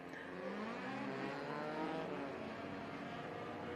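Four-cylinder race cars at Lebanon Valley Speedway droning together in a steady engine roar, heard from a distance and fairly faint, holding an even pitch without a clear pass-by.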